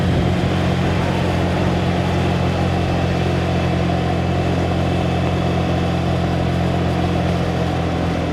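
Honda ADV scooter engine droning steadily while climbing a long, steep uphill road toward Mount Bromo, a continuous mid-pitched hum with wind noise, loud and close throughout with no talking.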